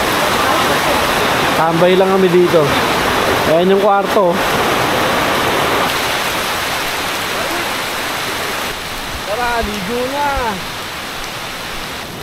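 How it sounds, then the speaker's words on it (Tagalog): Steady heavy rain hiss with a broad wash of sea waves at Laki Beach, Mariveles, Bataan, in the rainy season, while people talk over it at intervals. "Ang lakas ng ulan, yung alon, ang lakas"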